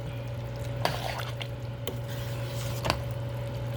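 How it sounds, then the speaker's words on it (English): Shredded cheese is stirred into Cajun chicken, sausage and shrimp pasta, giving soft wet squelches and a few spoon taps over a steady stovetop hum, close and quiet. "I'll put half of it and I'm gonna stir this in"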